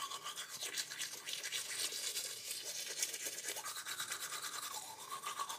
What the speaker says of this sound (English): I've loaded it up on my toothbrush.